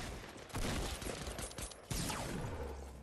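Gunfire in the battle royale game Fortnite, a scoped assault rifle among the weapons: several sharp bursts of shots at close range, the loudest near the start and again just before the two-second mark, with a faint voice barely present.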